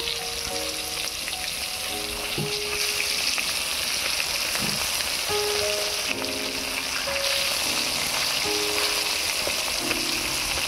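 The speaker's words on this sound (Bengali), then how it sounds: "আবারও একটা সাইড ভেজে নেব" Hilsa fish pieces frying in hot mustard oil on their second side, a steady close crackling sizzle running unbroken throughout with faint clinks of a utensil.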